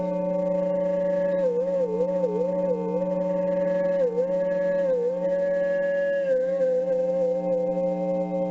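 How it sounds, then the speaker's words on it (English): A Stratocaster electric guitar played on its treble pickup through a distortion pedal holds one loud, sustained note with wavering bends and slides, ringing steadily with no pauses. "I'm going to put a distortion pedal in there."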